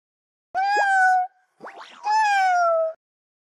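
A cute kitten gives two clear, drawn-out meows separated by a short squeaky chirp, close and alone with nothing else around.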